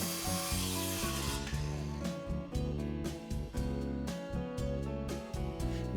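A 1x6 YellaWood board is cut for the legs of an Adirondack table, with loud rhythmic sawing strokes against the wood, close up and alone.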